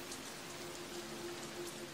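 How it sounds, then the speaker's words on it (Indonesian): Heavy rain pours steadily on a mountain trail during a hike up Gunung Slamet via Guci, a dense, continuous hiss of drops with no voices. "hujan tiba-tiba turun dengan derasnya"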